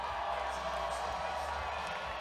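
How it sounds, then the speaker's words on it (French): A hometown crowd at a wrestling show in Amos cheers for local wrestler Dance, a steady, dense roar of voices filling the hall without letup. "La foule amosoise qui l'adore."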